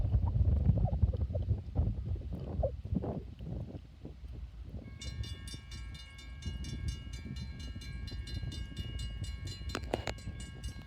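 Northbound freight train on the former Conrail NYC Big 4 line at Greenwich, Ohio: low rumble and rolling wheel noise, with a horn-like tonal blast joining midway and sharp clanks near the end.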